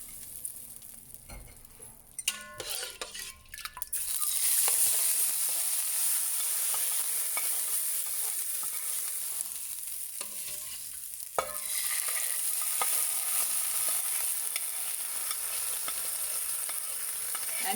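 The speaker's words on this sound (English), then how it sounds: "giving it a nice stir" Tempering stirred into a pan of vaghereli khichdi, a steady close sizzle with scraping stirs and a few clanks of the spoon against the pan, no talking.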